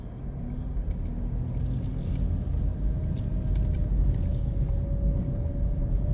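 A car drives slowly through a residential community in New Kingston, Jamaica, near new commercial construction on Worthington Avenue. The engine and tyre rumble is close and steady, with a faint whine rising above it.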